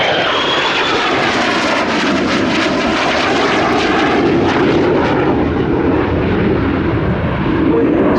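A military jet fitted with APG-65 multimode radar roars loudly overhead at the Royal International Air Tattoo air show, a sustained close engine blast that shifts in pitch as it passes.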